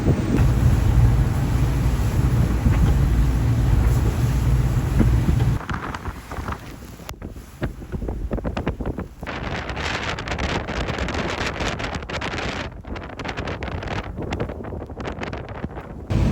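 Strong 33-knot wind roars around a twin-engine boat motoring straight into squalls between Langkawi and Thailand, a heavy buffeting rush that drops briefly, then returns with gusty bursts of wind noise hitting the microphone.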